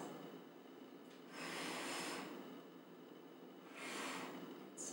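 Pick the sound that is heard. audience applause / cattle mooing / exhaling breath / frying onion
exhaling breath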